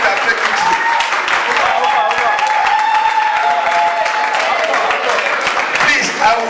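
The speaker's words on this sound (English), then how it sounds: "A round of applause." An audience at an academic-industry interaction session in a department of animal nutrition breaks into steady applause, a dense, even wash of clapping lasting several seconds.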